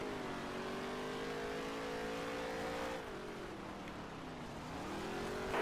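Race car engines in the NASCAR Heat 3 video game hum at a steady high drone, dipping in pitch as a car lifts off the throttle, then winding back up, with no talk over them.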